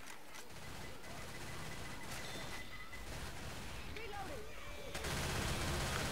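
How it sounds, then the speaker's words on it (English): Dense, continuous gunfire from a shotgun and an Uzi submachine gun in the zombie shooter Left 4 Dead 2 in a swamp setting, rapid overlapping shots with crashes and game noise, getting louder toward the end. "Shotgun works quite well in this one."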